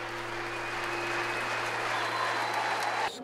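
Long standing ovation with encore applause after a Korean military traditional band performance in Hamina, Finland, a loud sustained wash of crowd clapping that cuts off abruptly near the end.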